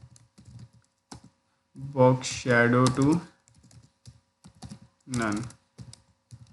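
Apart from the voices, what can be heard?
typing code on a computer keyboard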